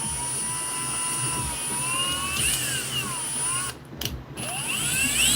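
A power drill running on PLA plastic whines loudly and steadily, its pitch sliding up and down as it loads, with a brief drop and sputter near the end before the whine returns.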